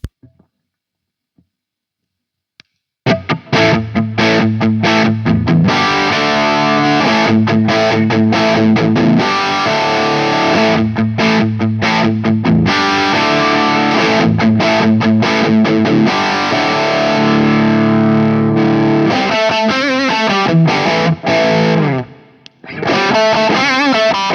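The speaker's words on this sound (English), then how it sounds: "I think the onboard boost is a tube screamer style boost." An electric guitar plays through a Marshall-style preamp with a Tube Screamer-style boost, a loud, saturated, distorted tone in sustained chords and riffs after a brief silent start, with no voices.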